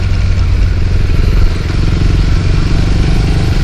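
A motorcycle in PUBG Mobile rides along in third gear, its engine giving a loud, steady drone that holds level for the whole stretch without a pause.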